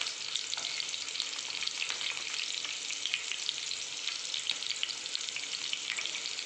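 Green chillies frying in a pan over a low flame, producing an even, unbroken hiss and crackle of hot oil heard up close with no voices.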